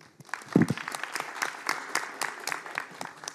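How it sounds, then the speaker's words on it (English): A room full of conference attendees at an internet governance forum session on GDPR applauds with steady, moderately loud clapping that carries through the whole stretch. "So the big round of applause to all of you."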